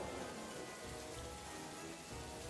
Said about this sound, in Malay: Aduh, hai, hujan pula.